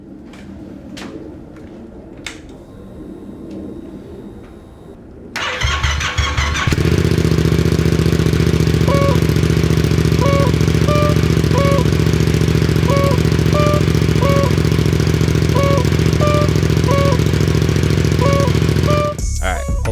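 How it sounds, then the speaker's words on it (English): A Yamaha MT-07 motorcycle left idle for weeks cold starts after some handling clicks, then settles into a loud, steady, close idle that runs until it cuts off at the end. "hopefully y'all like that cold start"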